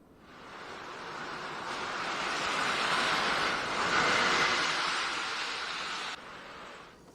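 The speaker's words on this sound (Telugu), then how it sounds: "డెహ్రాడూన్లో టన్స్ నది ఉధృతంగా ప్రవహిస్తోంది." The Tons River in Dehradun runs in flood after heavy rain, a broad, continuous roar of rushing water swelling slightly and then easing, with no voices.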